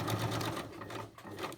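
A sewing machine stitches back and forth across a plastic tab in a steady, loud, continuous whir of rapid needle strokes close to the mic, with no talking over it.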